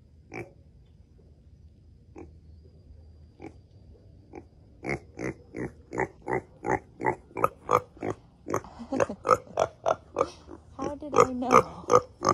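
Jason the pig grunting in a pasture, a string of short rhythmic grunts that start sparse and grow faster and louder, close by, with a few brief voices.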